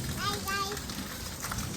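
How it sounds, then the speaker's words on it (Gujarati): Heavy rain falls steadily near a temple as a broad continuous hiss, with children's voices and tonal chatter rising briefly above it in the first half. "વરસાદ ધમધોકાટ ચાલુ થઈ રહ્યો છે"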